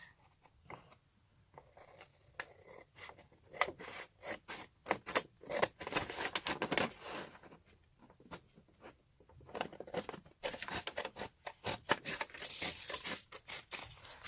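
Sharp scissors snipping around a junk-journal tag or pocket made from discarded paper, a rapid series of close, crisp cuts with paper crinkling and rustling in between, no voices.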